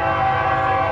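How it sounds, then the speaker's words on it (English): Freight train passing on nearby tracks, loud and close, with a sustained horn blast over the rumble of rolling wagons. "those train tracks are actually still bringing freight right across this line"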